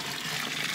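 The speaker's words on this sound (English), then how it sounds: "I'm gonna put a full pot of boiling water here." A full pot of boiling water is poured into seed-starting soil, giving a short, soft, continuous gush of liquid that stays fairly quiet throughout.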